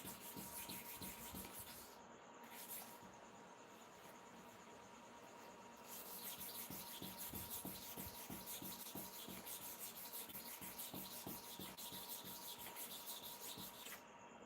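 Rotten, condemned hair clipper blades are sharpened with continuous gritty scraping and rubbing in a fast, rhythmic back-and-forth pattern, faint and steady throughout with a brief lull early on.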